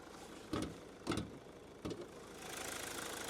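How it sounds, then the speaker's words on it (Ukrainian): A 2012 Mazda CX-5 2.2 diesel engine idles quietly and steadily nearby, with a few sharp clunks and taps near the start, then a soft rising hiss. "Двигун працює рівнесенько."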